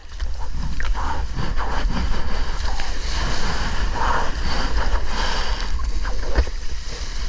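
Ocean waves break and rumble close by in bad weather while out surfing, a steady roaring wash of surf with heavy wind buffeting the microphone throughout.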